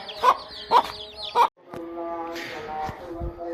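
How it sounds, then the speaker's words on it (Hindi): A hen gives three sharp clucks in a steady rhythm, followed by a faint chorus of soft, high peeping from chicks nearby. "निक्के निक्के चूचे वेखो प्यारे प्यारे आना दी मां है मुर्गी"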